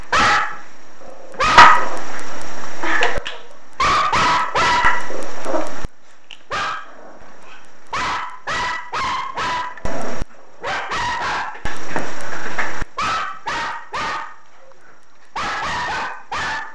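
A puppy barks in repeated bursts of sharp yips and barks, some with a whimpering edge, coming close and loud in clusters with short quiet gaps between them.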